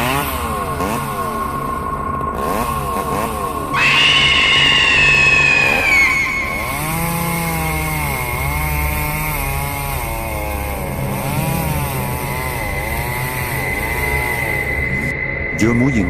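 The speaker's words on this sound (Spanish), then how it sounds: "El Chavo encendió la motosierra." A chainsaw starts up and runs with a buzzing, revving motor whose pitch climbs and dips across the whole stretch, loud and steady, with narration running over it.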